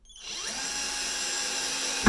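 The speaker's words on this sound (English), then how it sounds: "slide the cuff down, and drive your screw in" Power drill driving a screw, with a steady high whine that spins up quickly and holds close and loud for about two seconds before a brief clunk as it stops.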